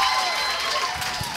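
Applause and crowd noise from the audience at a live podcast show in Querétaro, a dense continuous wash of clapping with scattered cheers, fairly loud and steady throughout.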